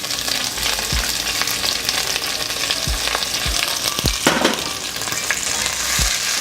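Onion fries in a pan for a potato and pepper stew, a loud continuous sizzle up close, punctuated every second or so by soft knocks and scrapes of a utensil stirring against the pan.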